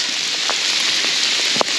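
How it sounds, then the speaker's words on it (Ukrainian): Hail falls in the Carpathian mountains as a dense, steady hiss of pellets striking surfaces nearby, broken by a few sharper individual hits, with no voices. "і ось четверта година пішов град"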